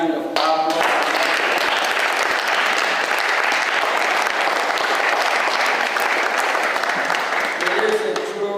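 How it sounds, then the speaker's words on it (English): Sustained applause from a large crowd at a U.S. congressional briefing, loud and steady for several seconds, with a few voices faintly mixed in. "can we give a hand of applause?"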